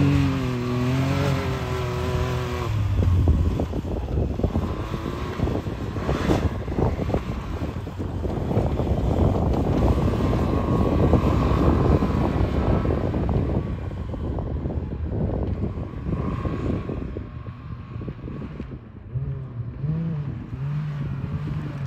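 Can-Am Maverick side-by-side running without its exhaust in snow: a continuous rough engine drone with rising and falling revs and heavy wind buffeting on the microphone, sustained throughout with no talking.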